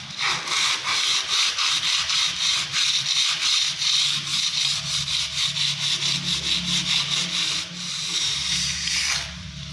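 Sandpaper is rubbed by hand over a dried wall putty strip in repeated rhythmic back-and-forth scrapes, close and fairly loud, with a brief pause before the rubbing resumes.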